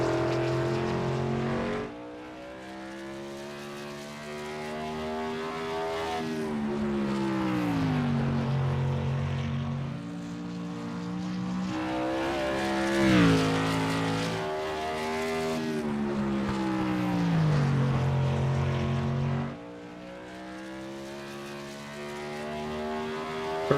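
Several SRL M9 modified race cars in iRacing circle Nashville Fairgrounds during qualifying, their engines droning continuously with rising and falling pitch as they pass, one car swelling louder near mid-lap before the sound eases off again.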